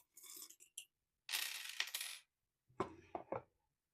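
Small metal charms shuffled by hand for a reading, making three short bursts of jingling, clinking metal, close and crisp, with silence between them.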